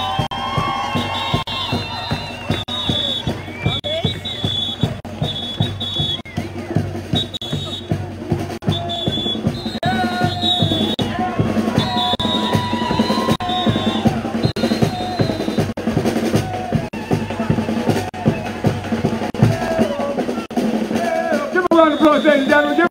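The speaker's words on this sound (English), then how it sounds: "Give a round of applause, ladies and gentlemen. Give some encouragement. A big round of applause." Crowd at the Bermuda Gombey Festival showcase cheering and shouting encouragement for a young drummer, steady loud crowd noise over pounding drums and festival music, with voices and children's shouts mixed in throughout.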